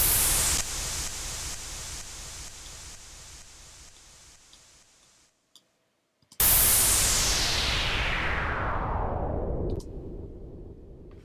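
A white noise transition effect with reverb and delay: a pulsing hiss that thins out and fades, cuts to silence, then a second bright burst of noise whose high end sweeps steadily downward before it drops off.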